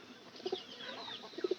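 A red pigeon coos softly in short low pairs of notes, with two clusters of cooing separated by a brief pause against a quiet background hiss.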